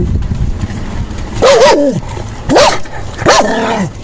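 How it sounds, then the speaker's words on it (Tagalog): A bulldog barks three times, loud and close, with short pauses between the sharp barks over a low background hum. "aso ko po guys, mabait po yan"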